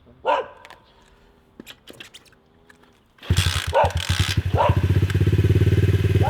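A small motocross bike engine bursts into life after scattered dog barks, revving loudly with a rapid buzzing putter that keeps running close by.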